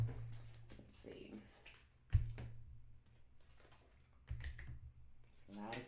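Tarot cards shuffled and drawn during a reading, giving soft papery riffles and crisp taps and flicks, with a sharp snap near the middle, close and fairly quiet, mixed with light handling noise.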